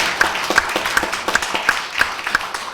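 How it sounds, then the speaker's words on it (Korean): A symposium audience claps for a lawmaker being introduced, a moderate round of applause with a few distinct sharp claps standing out in a regular rhythm over the wash. "박수 한번 쳐주십시오."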